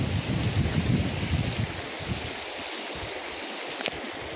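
The Jahing river rushes at a confluence where two streams join on a jungle road between Assam and Arunachal, a steady broadband water roar that thins out midway.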